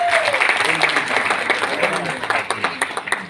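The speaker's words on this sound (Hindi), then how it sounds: "एक बार अपने आप के लिए जोरदार तालियां बजाएं।" Loud applause and clapping from an audience at a business meeting, energetic and dense at first, then thinning into more distinct individual claps toward the end, with a voice briefly heard over the start.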